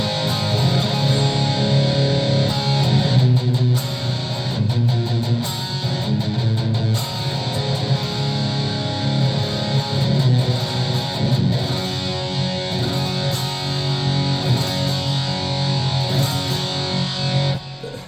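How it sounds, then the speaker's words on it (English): A PRS CE/SE electric guitar through heavy distortion plays sustained, gritty chords, loud and continuous throughout. "Let's throw on a little bit of distortion."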